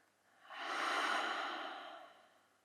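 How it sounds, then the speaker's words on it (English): One long, deep breath out during a yoga class, soft and close, swelling then fading over about two seconds in a quiet room. "And a final breath out together."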